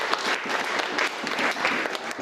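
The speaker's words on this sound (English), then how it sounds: "Let's give him a big round of applause." An audience at a celebration gives a round of applause, a fairly quiet but steady patter of many hands clapping, with slight surges in the rhythm.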